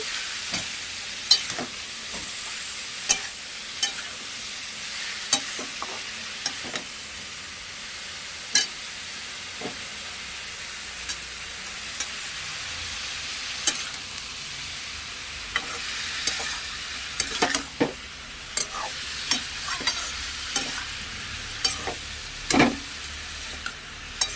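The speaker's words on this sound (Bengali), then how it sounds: "ভালো করে নাড়াচাড়া করে" Food sizzles steadily in a frying pan while a utensil stirs and scrapes it, with sharp clicks and taps scattered across the constant hiss, close and alone without talk.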